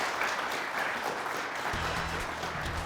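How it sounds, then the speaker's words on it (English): Applause from a quiz show audience for the competing teams, a short burst of clapping from a small crowd heard alone. "That's already worthy of a round of applause for our teams up here."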